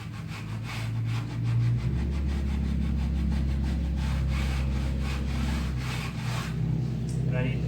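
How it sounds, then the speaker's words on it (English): Steady hand sanding on a quilted maple Telecaster guitar build, a continuous rasping rub of abrasive over wood that runs close and fairly loud throughout, with low hum in the background. "So I'm just going to sit here and sand this until it's straight."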